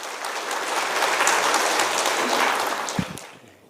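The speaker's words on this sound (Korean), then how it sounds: "우리 박수로 감사하며 영광 돌립시다." Congregation applauding inside a church at a Wednesday worship service, a dense, steady wash of clapping that holds for about three seconds and then tapers off.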